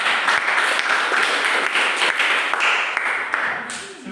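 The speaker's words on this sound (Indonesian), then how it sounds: "Aplaus dulu untuk kita semua." Sustained applause from an audience in a classroom session, dense steady clapping that fills the whole stretch and tapers slightly near the end, with no speech over it.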